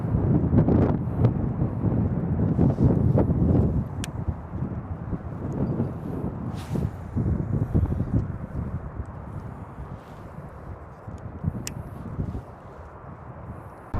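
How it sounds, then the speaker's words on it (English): Strong wind buffets the microphone beside an Oregon river on a winter steelhead fishing day, a loud, steady low roar with a few heavier thumps early on and no talk. "This wind is brutal."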